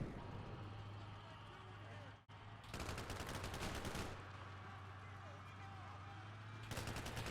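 Tank machine gun fire in Combat Mission: Black Sea comes in two long, rapid, sustained bursts separated by a short pause, loud and close, with a steady engine drone and a voice talking underneath.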